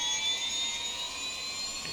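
Steady turbine whine of the CowanSim 500E aircraft's engines in X-Plane 11, a high-pitched hum with a thin whistling edge holding constant throughout, with no voices.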